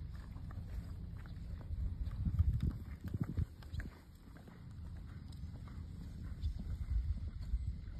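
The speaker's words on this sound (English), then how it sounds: "when you're ready, let's go up to a left lead canter." Horse hooves at a left lead canter during a flatwork schooling session, a steady rhythmic clip-clop of footfalls on the arena surface, moderately near and continuous throughout with no talk.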